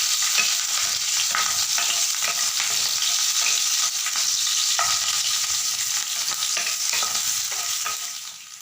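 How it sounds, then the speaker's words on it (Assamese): Onion, dried and green chillies and panch phoron sizzle steadily in a hot pan, with intermittent scraping stir strokes and no talk. "এতিয়া এইখিনি মই ভালদৰে ভাজি ল'ম"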